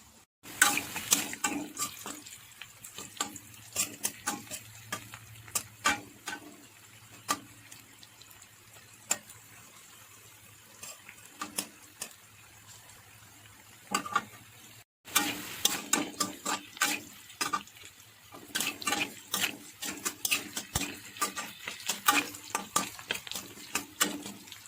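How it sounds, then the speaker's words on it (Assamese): Small tomatoes frying in oil over a low-to-medium flame, irregular crackles and sharp pops against a quiet bed, with a brief break partway through, then denser popping. "মই ল' ফ্লেমত এইখিনি ভাজি আছোঁ"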